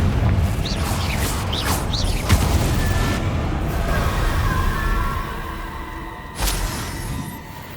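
A Confringo spell explodes in the Hogwarts Legacy video game, a loud booming blast with crackling, whooshing debris amid dense game effects, followed by another sharp burst near the end.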